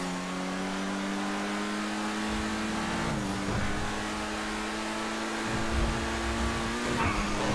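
Car engines racing in GTA V, among hot rods and a small car, hum steadily, then rev and shift upward with changing pitch, loud and continuous.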